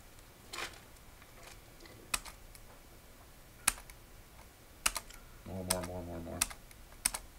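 Scattered keystrokes on a computer keyboard, quiet and irregular, with a brief burst of a low buzzing tone near the end.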